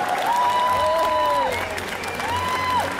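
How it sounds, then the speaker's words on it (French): Audience applause at a cosplay contest during an indoor festival, a steady dense clapping wash with a long electronic tone rising and falling over it, then fading slightly. "Et on applaudit bien fort, s'il vous plaît."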